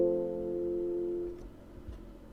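A piano sounds a sustained chord that rings steadily, then shifts to a new chord (C moving to F) at a soft, close volume; the second chord is quieter and decays with faint low notes, and no voices are heard.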